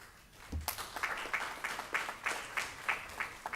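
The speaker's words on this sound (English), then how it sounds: "You know it's June when we're clapping for principals' reports." A small group claps for principals' reports at a school board of education meeting, a sparse, uneven patter of individual claps after one soft thump, moderately near.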